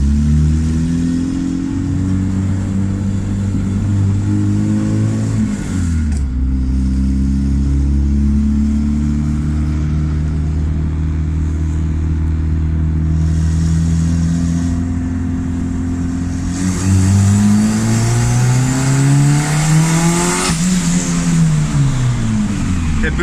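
A turbocharged D16-engined Honda Civic accelerates hard, engine droning loudly and rising in pitch, then stuttering at boost cut, dropping and climbing again in repeated pulls, heard close throughout.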